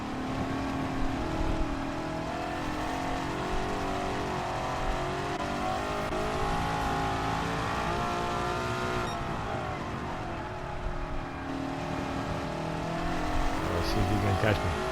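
A 1955 Mercedes racing car roars through a racing video game, its engine droning steadily at high revs, rising and falling through gear changes and corners, with a voice talking over it at times.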